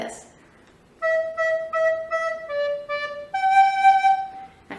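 A recorder plays the first half of the second phrase of Jolly Old St Nicholas, a run of clear, steady sustained notes, some repeated and some stepping between pitches, close and alone after a brief quiet lead-in.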